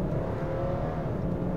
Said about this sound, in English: the engine noise ain't up to much, but the actual thrust it produces is pretty bonkers